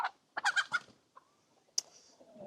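A hen clucking at close range in a farm setting, a few quick clucks followed by a short squawk, with quiet gaps between.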